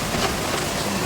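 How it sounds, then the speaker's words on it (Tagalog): Heavy storm rain pours down outside as a dense, continuous hiss and patter, steady and fairly loud with no gaps. "Lakas ng ulan sa labas."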